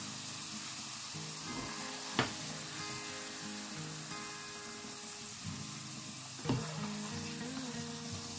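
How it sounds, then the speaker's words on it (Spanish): Hake and prawn meatballs frying in oil, a soft continuous sizzle with a couple of sharp utensil clinks against the pan. "Y aquí en este mismo aceite vamos a freír las albóndigas."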